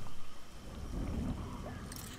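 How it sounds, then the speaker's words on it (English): Rain and a low rumble of thunder in the survival video game Smalland, steady hiss of rainfall with a deep roll underneath, no talking. "it is raining, but I think we're okay"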